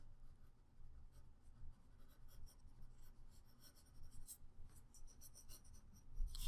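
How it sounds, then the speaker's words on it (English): Pencil drawing a tree's cast shadow on paper for a geometric-form landscape, a soft continuous scratching with faint strokes coming and going, close and quiet, with no voice. "basically we just want to draw the tree shape coming off in this direction"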